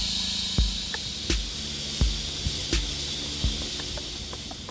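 A dual action airbrush sprays paint onto a soft vinyl toy with a steady close hiss, broken by a series of sharp clicks and taps at irregular intervals.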